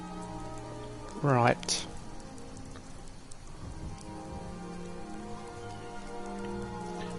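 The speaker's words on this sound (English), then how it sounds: "I want to get out of this rain." Rain falls steadily in the Skyrim town of Falkreath as a soft continuous patter. A brief spoken word and a short musical or vocal tone are heard early on, over the rain.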